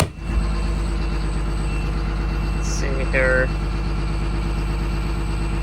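A cold Caterpillar diesel bus engine idles steadily after a cold start, a continuous low drone that holds the whole time, with a brief voice speaking over it midway.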